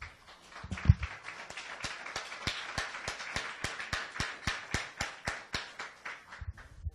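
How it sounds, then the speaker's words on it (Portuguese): A church congregation claps at a service, the applause coming as a steady run of sharp, even claps that hold at moderate loudness for several seconds. "Vamos dar uma salva de palmas para essa palavra, igreja?"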